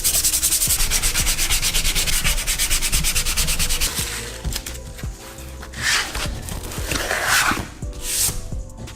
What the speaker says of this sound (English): I'm sanding these down is to make sure they're even